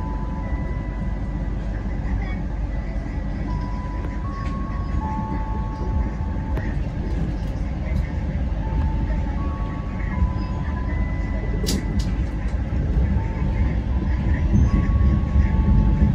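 Logawa passenger train hauled by CC 201 locomotive pulling out of Purwokerto station, heard from the economy coach right behind the engine: a steady continuous rumble and rail clatter throughout, with faint tonal hums, no talk.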